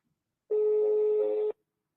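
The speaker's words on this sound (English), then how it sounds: "The Bible 8:10 number is ringing." A telephone ringback tone on a call patched into a live FM radio morning show: a single steady electronic ring lasting about one second, loud and clear, with silence before and after.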